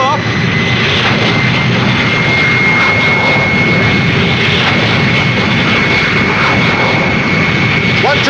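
Airplane engines roaring loud and close during takeoff, a dense steady drone with a high whine that holds for several seconds without letting up.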